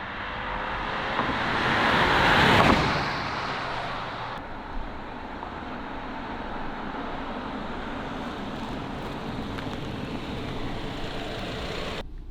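BMW X3 xDrive30e plug-in hybrid passing by quietly, a soft rush of tire and road noise that swells to a peak and then fades into a steady background hum.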